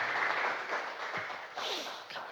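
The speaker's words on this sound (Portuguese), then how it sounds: "aplauda ao Senhor por Sua palavra" A church congregation applauding during a worship service: a soft, continuous wash of clapping heard from some distance, steady throughout with slight swells.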